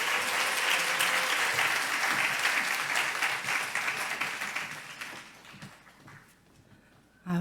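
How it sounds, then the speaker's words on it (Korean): A church congregation applauds to welcome a guest preacher to the pulpit, a dense, lively clapping that holds strong and then thins and fades away over several seconds. "엘리야의 영성을 가진 우리 전도사님 나오실 때 박수로 환영해 주시기 바랍니다."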